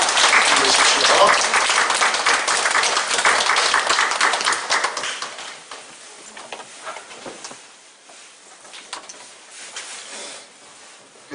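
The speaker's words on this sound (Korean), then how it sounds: "우리 위로의 박수 한번 드립니다" A church congregation applauds to comfort a grieving family during a worship service. The clapping is loud at first, then thins toward the end, with a voice speaking over it.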